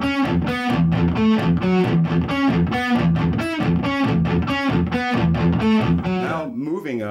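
Distorted electric guitar on a PRS, playing a metalcore pedal-tone riff slowly: steady chugging palm-muted notes alternating with higher fretted notes in an even repeating rhythm, loud and saturated, ending with a brief bend.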